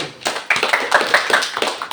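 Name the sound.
applause, hands clapping in class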